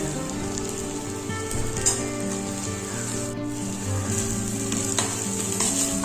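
Basmati rice is stirred in a pan with potato and capsicum, giving a steady close sizzle of frying with scraping stir strokes and no talk.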